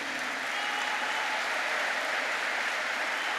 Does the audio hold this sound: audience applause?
yes